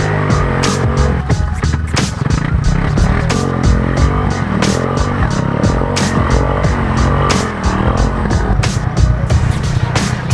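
A homemade three-wheeler's engine runs on a test ride, a loud, close, continuous rumble with a rapid throbbing pulse and steady broadband roar throughout.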